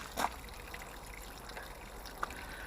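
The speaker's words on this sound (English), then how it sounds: "drain the water tank down" Water drains out of a drinking water tank in cold winter conditions, a quiet continuous trickle with a couple of small splashes or clunks and no talk.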